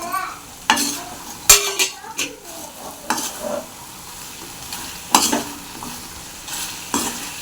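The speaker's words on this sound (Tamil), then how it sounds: "நம்ம அதில் சிக்கன் போட்டுக்கலாம் கிரேவி மாதிரி இருக்கணும்" Chilli chicken fries in a masala gravy, a soft steady sizzle broken by repeated scrapes and clinks of a spoon stirring against the pan.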